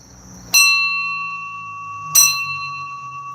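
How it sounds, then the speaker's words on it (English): Two bright metallic bell strikes about a second and a half apart, each ringing out with a long, sustained shimmering tone that slowly fades. "Here's my bell."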